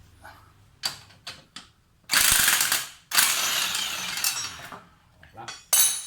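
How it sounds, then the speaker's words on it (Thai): A spring compressor being loosened on a shock absorber coil spring, giving sharp ratcheting clicks and bursts of metallic clatter in an irregular rhythm, close and fairly loud with no talk. "เราค่อยๆ คลาย ตัวล็อกสปริงออกช้าๆ นะครับ"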